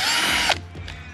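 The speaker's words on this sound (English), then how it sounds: "don't use a power drill for this." A power drill spinning off the wheel nuts of an RC crawler, a loud high whine for about half a second that cuts off sharply, followed by faint mechanical clicks.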